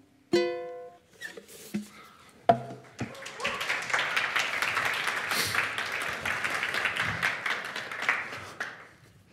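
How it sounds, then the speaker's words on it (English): Lecture audience applause building from a few scattered early claps into a dense, sustained round of clapping that fades near the end, moderately loud and filling the room. "thanks for the applause"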